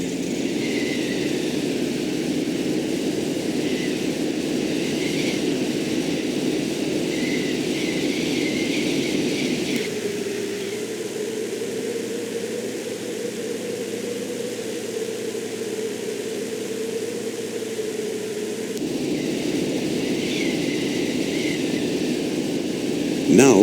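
An ultralight aircraft floats low over the runway while landing in Flight Simulator X, its engine a steady, moderately loud drone that shifts pitch partway through and then returns.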